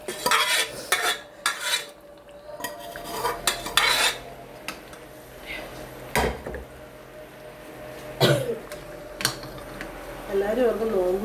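Beef pieces going into hot clarified oil in a pan and being stirred, with repeated scraping and clinking of a spoon against the metal and bursts of sizzling, while someone talks intermittently nearby.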